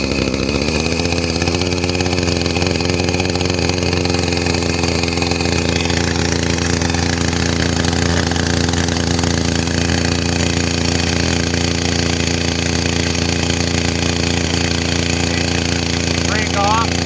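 An Echo chainsaw engine starts and runs continuously, a loud, close, steady two-stroke drone revving slightly higher at first and then holding an even idle-to-mid pitch for the whole span.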